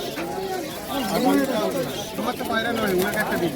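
Pigeons, including Giribaz flying pigeons, coo repeatedly at a busy pet market in Uluberia, soft rolling calls layered over one another at close range while people talk nearby.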